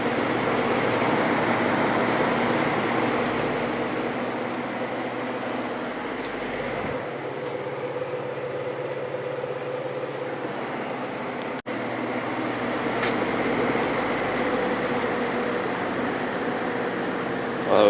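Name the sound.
vintage GE window fan with shaded pole motor running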